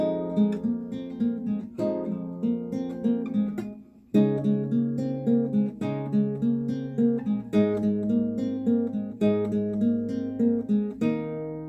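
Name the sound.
guitar riff with chords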